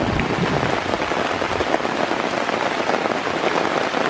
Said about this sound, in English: Wow, look at the rain.